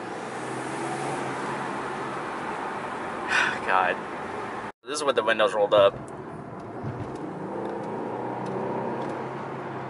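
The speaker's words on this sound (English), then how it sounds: "you can hear so much induction noise, especially on full throttle" Engine induction noise from an Infiniti Q50 with aftermarket intakes and a JB4 tune, heard from inside the car with windows up under full throttle: a broad, steady roar runs throughout, with a louder surging burst midway, while people talk over it.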